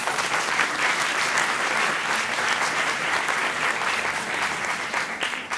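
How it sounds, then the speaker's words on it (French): Audience applause at a live French science-outreach stage show welcoming a doctoral researcher, a steady, dense clapping that stays loud and even for the whole stretch with no talk over it. "sous vos applaudissements"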